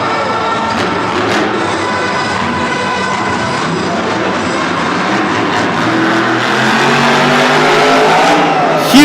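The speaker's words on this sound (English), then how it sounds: "freestyling in this El Toro Loco ice truck" The El Toro Loco monster truck freestyles in a San Diego stadium, its engine roaring steadily with revving surges, loud and distant amid crowd and arena echo.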